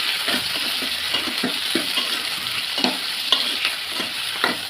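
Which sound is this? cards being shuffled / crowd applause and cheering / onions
onions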